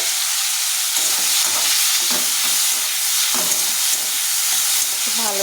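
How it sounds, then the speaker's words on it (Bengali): Prawns rubbed with turmeric and salt frying in hot oil, a loud, steady, close hiss with faint stirring scrapes and no talking. "এখন আমি যে চিংড়ি মাছটা আমি ভেজে নিচ্ছি, আগে একটু হলুদ লবণ দিয়ে নিয়েছি।"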